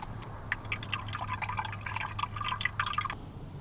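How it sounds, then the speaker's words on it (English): Pond water splashes and trickles into a pump to prime it, a stream of irregular drips and gurgles over a low steady hum, close and moderately quiet. "fill the pump up with some pond water so we don't dry run it"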